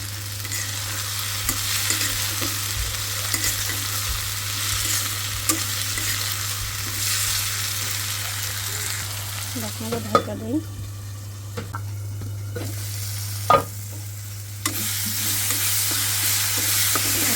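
Paneer sizzles and fries in an oily pan with onion, a steady hiss broken by spoon scrapes and stirring clinks, close and continuous, with a low hum underneath.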